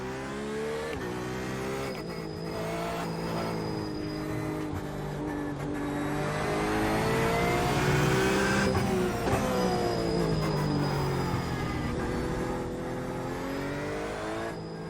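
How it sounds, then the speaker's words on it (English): Porsche 911 RSR race car lapping the Nürburgring in iRacing, a sim racing game, with other cars on a live server: a loud, steady engine roar with rising and falling revs through gear changes, continuous and close. "I'm now sitting in iRacing in a beautiful 911 RSR around the Nürburgring"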